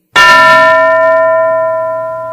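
A single loud strike of a classroom bell, starting sharply and ringing on with a long, slowly fading metallic tone, with no voices.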